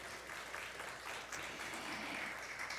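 A crowd claps steadily for a few seconds, a dense even patter of many hands in a room at a Father's Day church service.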